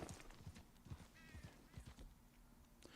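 Horse hooves clip-clop in a steady rhythm during video game play, mid-distance and clear, with a brief whinny and faint game ambience around them.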